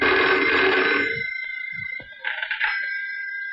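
A telephone rings loudly in a house, one bright sustained ring that fades out, then a softer trilling burst follows briefly.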